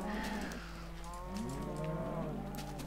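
Cow mooing in the video game Minecraft, two drawn-out low moos close and clear, one after the other, with no talk over them.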